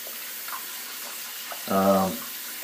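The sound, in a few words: water running to wet a shaving brush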